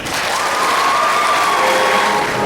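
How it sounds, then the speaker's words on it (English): Audience applause fills a school promotion ceremony at Hudtloff Middle School, a steady, dense wash of clapping from a large crowd that holds evenly throughout with no break. "Let's give them a round of applause."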